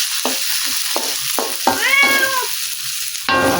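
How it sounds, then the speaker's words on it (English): A vocal cat meows repeatedly in a kitchen while eggplant curry sizzles in a pan, with several short mews and a longer drawn-out yowl over the constant frying hiss. "I'm sorry, my cat is pretty vocal for today."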